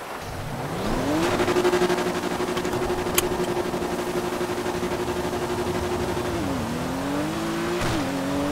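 A Nissan R34 engine in GTA V revving up and holding a high steady drone for several seconds, then dropping and climbing again through a gear change, close and loud, with a brief tire chirp.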